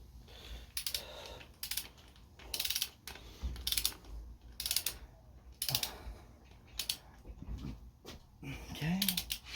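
A ratchet wrench tightens bolts on a Honda Civic EK engine during a piston and ring install, with close, crisp clicking bursts repeating in a steady stop-start rhythm.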